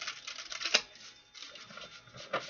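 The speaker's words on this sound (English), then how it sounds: "One more shuffle." Tarot cards being shuffled by hand in quick, close riffling bursts with a sharp snap partway through, soft and crisp with short pauses between bursts and no talk.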